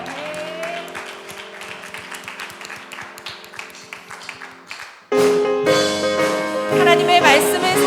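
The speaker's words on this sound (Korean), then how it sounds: "전능하신 하나님께 영광의 박수를 올려드립시다." A church congregation at a Sunday worship service claps in rhythm over a sustained organ or keyboard tone, then music swells louder while the steady clapping continues.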